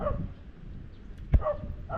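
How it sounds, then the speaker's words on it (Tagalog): A dog behind a neighbouring fence at a seaside spot gives a couple of distant, muffled barks, with one sharper yip standing out midway, over steady outdoor background noise. "Naku, makakagat pa ata ng aso. Saan ba ang aso? Ay, nandun pala sa kabilang bakod."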